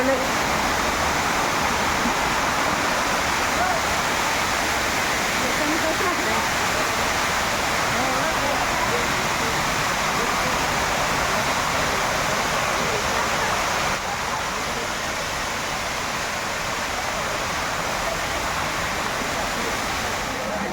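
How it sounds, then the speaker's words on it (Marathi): Heavy rain and a mountain waterfall pouring down near a hilltop temple produce a steady, dense roar of rushing water that stays loud and unbroken for the whole stretch, with no voices over it. "या साईडला डोंगरावरनं येणारा धबधबा बघा"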